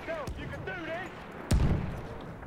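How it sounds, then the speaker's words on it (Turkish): Bolt-action rifle fire in Battlefield 1 during a World War I landing mission: two sharp shots about a second apart, the second louder with a short echoing tail, alongside shouting voices and battle ambience. "Şu bolt action silahlar kullanmak zevkli oluyor ya"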